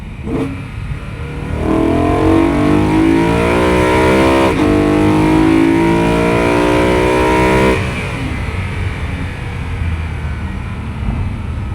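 A BMW E92 M3 engine revs hard and climbs steadily in pitch through the gears for several seconds, then cuts back to a lower idle drone, loud and close.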